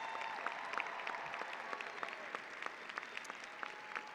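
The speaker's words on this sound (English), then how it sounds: "Let's give them a round of applause" Applause fills a large commencement venue, a steady, distant-sounding wash of many hands clapping with scattered sharper claps, continuing evenly for several seconds.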